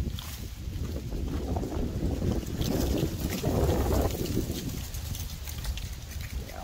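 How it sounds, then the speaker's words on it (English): Wind gusting outdoors among trees, a steady broadband rush that swells and eases with the gusts, close and loud, with some microphone buffeting and no talk. "all those leaves that are blowing in the wind, they might get you"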